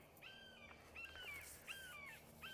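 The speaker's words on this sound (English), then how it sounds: "And a bird." A crow caws outdoors, three to four harsh repeated calls in a steady rhythm, faint and somewhat distant over low background noise.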